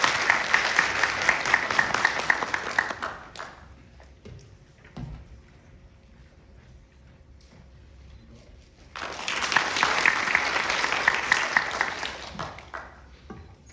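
An audience at a National Assembly infrastructure forum applauds to welcome a lawmaker, a steady burst of clapping that fades to near quiet, then a second round of applause rises again, moderately distant in a hall.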